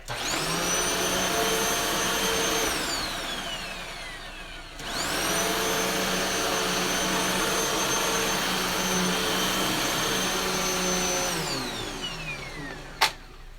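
Reconditioned WindTunnel vacuum cleaner running, a loud motor whine that winds down, cuts out briefly, then restarts and runs steadily before winding down again, ending with a sharp click.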